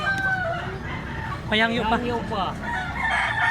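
A rooster crows loudly and close by at a cockfighting rooster sale, a single drawn-out call rising then falling over a few seconds, with other fowl and people talking in the background.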